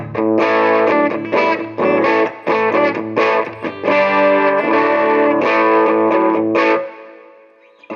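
Bright, slightly driven semi-hollow ES-335-type electric guitar through a Vox-style amp sound on the bridge pickup, chords strummed in a steady rhythm, chiming and upfront, ending on a ringing chord that fades out.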